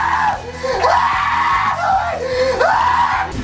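An actor on the set of a film lets out shrill, high-pitched girlish screams, several rising-and-falling shrieks in quick succession, loud and close.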